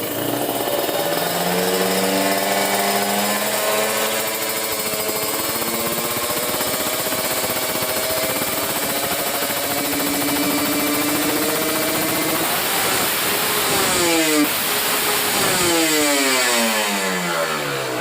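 A Kawasaki Ninja RR two-stroke engine fitted with a PWK carburetor revs close by, its buzzy note climbing and falling in repeated rises over a sustained raspy drone.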